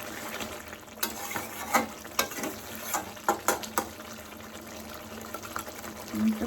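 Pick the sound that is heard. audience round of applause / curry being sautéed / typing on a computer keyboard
curry being sautéed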